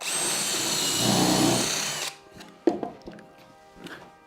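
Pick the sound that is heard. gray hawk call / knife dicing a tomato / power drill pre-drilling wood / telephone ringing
power drill pre-drilling wood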